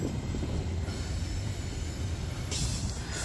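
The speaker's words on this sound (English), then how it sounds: "The second locomotive in the consist is NS 3990 an AC4400CW." Norfolk Southern AC4400CW diesel locomotive passing close by, a steady loud rumble and rush of rail noise with hissing that continues throughout.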